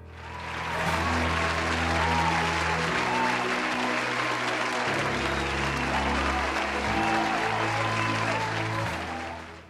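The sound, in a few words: awards ceremony audience applause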